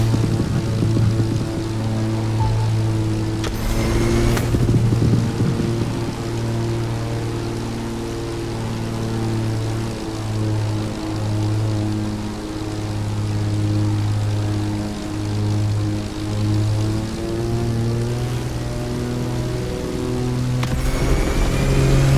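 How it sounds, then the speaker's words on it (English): A vintage Grumman Bearcat F8F propeller plane in the racing game The Crew Motorfest drones with a steady engine hum that shifts pitch, plus two brief rushing whooshes. "we decided to go aerial, vintage, and bold with the Grumman Bearcat F8F"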